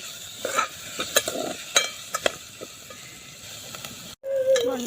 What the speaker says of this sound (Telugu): రొయ్యలు బాగా వేయిన తర్వాత ఇందులో ఉల్లిపాయలు వేసుకున్నామండి. వీటిని కూడా బాగా వేయించుకోవాలి.